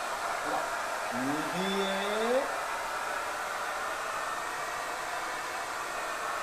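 A hair dryer blows a steady, loud, broadband rush of air to hold a floating balloon in its stream, constant throughout while a voice speaks briefly over it.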